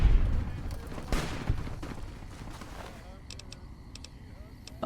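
Gunfire from a newly acquired gun in Fallout: New Vegas, loud close shots near the start with broad bursts, fading into quieter game ambience with faint ticking tones later.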